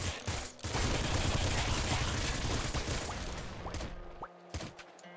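A dense, continuous barrage of gunfire and explosions from the Nuclear Throne video game, including rocket launcher blasts, roars for about four seconds before breaking into a few separate loud hits and then quiet.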